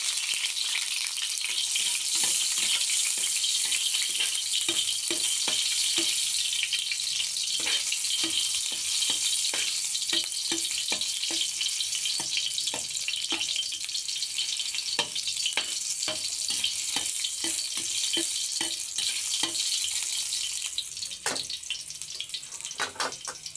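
Garlic fries in cooking oil for monggo, a dense, close, bright hiss of sizzling oil lasting throughout, with scattered scraping and clicking of stirring.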